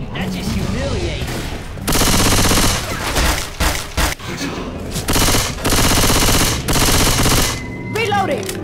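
Gunfire in the zombie shooter Left 4 Dead 2, in the Dead Center campaign: loud, dense bursts of rapid automatic fire with short gaps, and game voices shouting in between.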